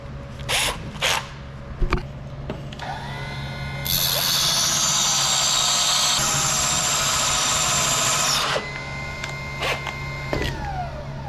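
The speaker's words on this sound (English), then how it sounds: "to sharpen tungsten, I don't use a grinding stone. I use a diamond wheel" A high, harsh grinding whine as a diamond wheel sharpens a tungsten welding electrode runs for about four seconds over a steady motor hum, with scattered clicks and taps before and after.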